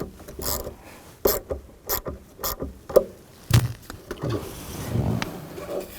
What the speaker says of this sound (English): Use a 10mm socket. Loosen up the negative terminal.